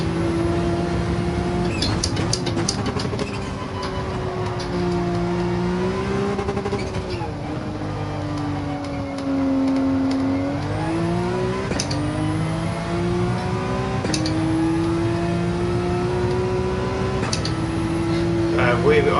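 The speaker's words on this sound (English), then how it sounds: "just watch the acceleration of the Porsche now" Porsche accelerating in the racing game Gran Turismo 7, its engine note rising and shifting through gears in steady sweeps, loud and continuous beneath an ongoing commentator voice.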